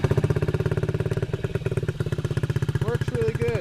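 A Honda Ruckus scooter with a modified exhaust and an air filter mod runs close by. The engine gives a loud, fast, steady pulsing idle throughout, with a brief rise in revs near the end.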